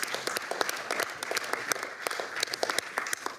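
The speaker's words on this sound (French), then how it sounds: "c'est Jean-Luc Barras, qu'on peut aussi applaudir" An audience at a public procurement conference bursts into steady, lively applause, dense clapping from many hands filling the room with no talk on top.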